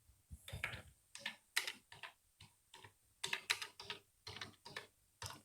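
A computer keyboard is typed on while entering text in MS Word 2016, making quiet, irregular bursts of key clicks in quick clusters with short pauses between them and no voices.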